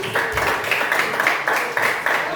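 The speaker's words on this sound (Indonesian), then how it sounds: "Tepuk tangan" A small church group claps together in brief rhythmic bursts, fairly close and moderately loud, with no talking over it.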